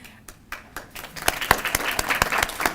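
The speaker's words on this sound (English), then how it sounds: "I think applause are totally appropriate" Applause at a Community College Initiative Program graduation ceremony, starting with a few scattered sharp claps and quickly swelling into fuller, denser clapping from the audience.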